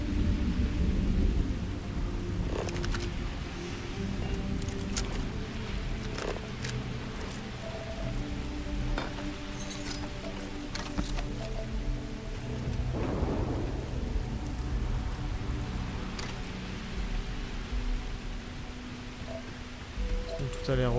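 Rain and thunder in the Starfield video game: a steady hiss of rainfall with low rumbling thunder rolling underneath, and sharper crackles and splashes scattered throughout.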